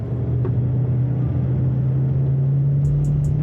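A high-mileage Subaru WRX heading out on a race track: a steady, loud engine drone with low rumble from inside the car, and a few quick high clicks near the end.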